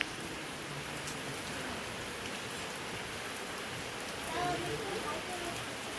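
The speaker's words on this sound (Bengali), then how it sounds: "আজকে 3 দিন ধরে সকাল হলেই এরকমভাবে বৃষ্টি শুরু।" Morning rain falls steadily in an even, broadband patter and hiss that continues throughout, with a slight swell near the end and a faint voice in the background.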